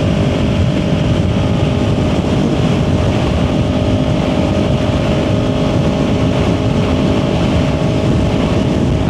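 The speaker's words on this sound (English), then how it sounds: "I mean the wind, man." Loud, steady wind roar buffets the rider of a Ninja 400 motorcycle at interstate speed, with engine and road noise underneath and no let-up for the whole stretch.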